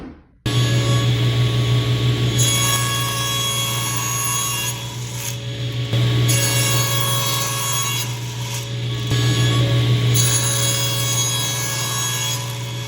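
A saw hums steadily as it cuts wooden parts for a jewelry box against a stop block, a continuous loud motor drone with a low buzz that dips slightly between cuts, no talking.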